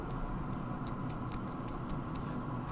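A plastic bead sliding on fishing line in a trout rig, giving rapid light clicks in an irregular run, faint and close over a steady background hiss.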